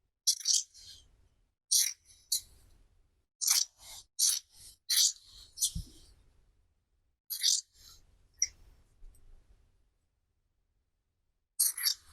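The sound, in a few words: scissors cutting fabric for a Viking tunic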